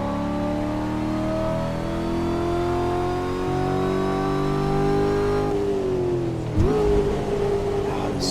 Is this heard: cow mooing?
no